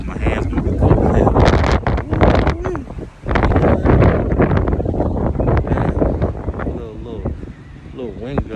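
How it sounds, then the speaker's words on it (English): Strong outdoor wind gusting and buffeting the microphone, loud and continuous with surging rushes. "This wind kicking now."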